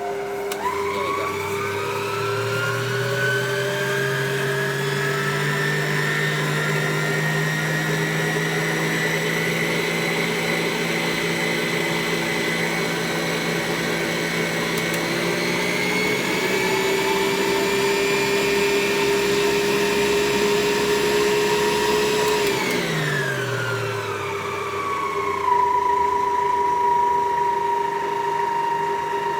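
Electric hand mixer whirring steadily through banana bread batter, a loud close motor drone that shifts pitch as the speed changes and winds down near the end, with no talking.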